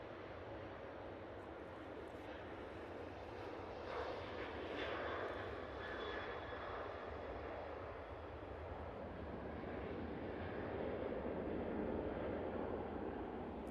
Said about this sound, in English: Nice landing there.